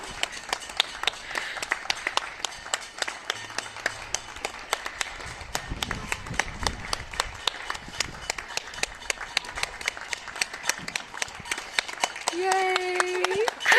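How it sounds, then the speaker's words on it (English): Neighbours on a residential street clap for carers, a steady patter of many hands sounding slightly distant, with a voice speaking close by and a brief cheer near the end. "I'm still super grateful for the Clap for Carers, and my street like came out in force again"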